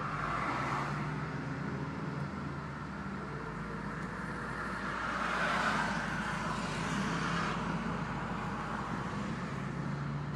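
Stock 2013 Subaru WRX STI Limited pulling away gently, a steady engine drone and road roar from inside the cabin, rising slightly in the middle and holding even throughout with no voices.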